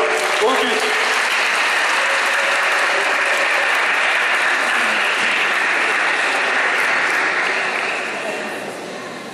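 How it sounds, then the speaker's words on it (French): A church congregation applauds a child during a Christmas Eve Mass homily, a dense, loud burst of clapping from many hands that holds steady for several seconds before tapering off at the end. "on peut l'applaudir"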